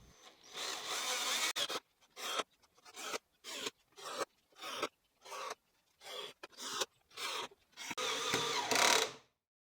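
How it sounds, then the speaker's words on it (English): A power drill driving screws into a woodworking project, short whirring bursts with brief pauses between them, starting and ending with longer runs, close and fairly quiet with no voices. "Now, I can proceed to install the remaining screws."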